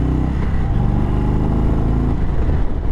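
A 2022 Indian Super Chief Limited motorcycle, rated at 120 pound-feet of torque, accelerates on a test ride. Its engine gives a loud, close, steady low rumble with thick harmonic drone throughout and no talk.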